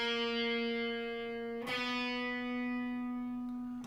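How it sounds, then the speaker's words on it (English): A guitar sounds a sustained, slightly distorted note, then slides up a half step to a second held note, loud and close with no talking. "That would be a half step ascending or going up in frequency."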